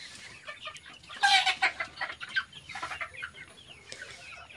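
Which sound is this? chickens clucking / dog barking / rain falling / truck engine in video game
chickens clucking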